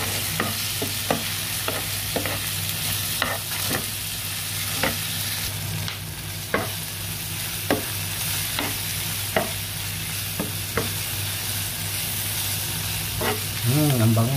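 Squid curry masala with pepper being stirred in a hot pan, steady frying sizzle and hiss under repeated sharp scrapes and taps of a spoon, close up, with faint talk in the background.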